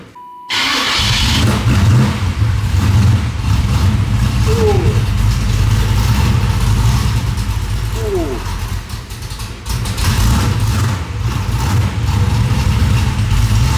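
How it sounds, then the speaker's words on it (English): A 3rd-gen Chevrolet Camaro with a newly built exhaust fires up and settles into a loud, steady, rumbling run close by, as people talk over it. "I think once you rev it up, it'll get loud."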